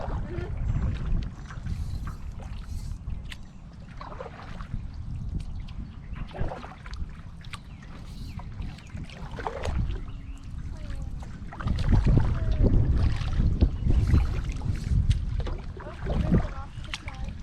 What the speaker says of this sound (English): that wind is trying to push us over to the side